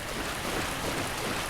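A waterfall in Dark Souls Remastered gives a steady, dense broadband roar of rushing water, loud and unbroken throughout, with no voices.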